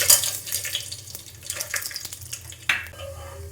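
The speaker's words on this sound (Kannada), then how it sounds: "ಇವಾಗ ನೋಡಿ ಸಾಸಿವೆ ಕುಡಿತಾ ಇದೆ" Mustard seeds crackling and spluttering in hot oil in a home kitchen pan while making upma, a busy run of small pops and sizzle with a few louder bursts, no talking.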